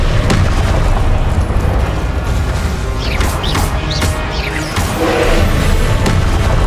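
Confringo spell explosions in the video game Hogwarts Legacy: loud, dense booming blasts that stack into a continuous roar, with sharper crashing bursts around the middle.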